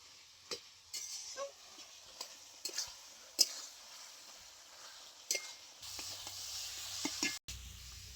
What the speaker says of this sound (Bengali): খুব ভালো করে কষিয়ে নিয়েছি